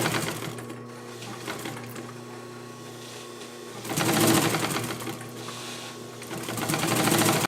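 A vintage Singer 111W153 triple-feed industrial sewing machine runs with a steady mechanical whir and hum, close up, building to a louder burst of stitching around the middle and again near the end.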